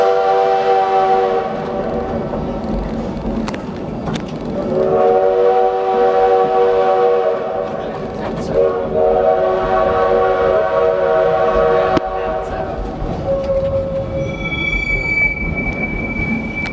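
The Black Hills Central Railroad steam train rolls along noisily with squealing wheels and clattering cars, its whistle sounding in long sustained blasts near the start and again midway, loud and close.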